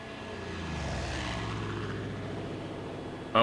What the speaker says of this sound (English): I want to hit that plane with it though.